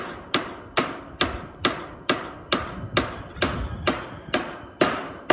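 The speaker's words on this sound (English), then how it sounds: "Her own hammer." A hammer strikes a surface in a steady series of about a dozen sharp, evenly spaced blows, close and loud, with no talk.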